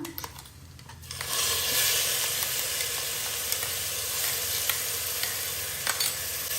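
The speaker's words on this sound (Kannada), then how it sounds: "ಅದು ಶುಂಠಿ ಬೆಳ್ಳುಳ್ಳಿದು ಸ್ವಲ್ಪ ಹಸಿ ವಾಸನೆ ಹೋಗೋವರೆಗೂ ಎಣ್ಣೆಯಲ್ಲಿ ಹುರ್ಕೊಳ್ಳೋಣ" Ginger, garlic and green chili paste frying in hot oil for jeera rice, a steady loud sizzle that starts abruptly about a second in and continues with faint stirring clinks, no talking.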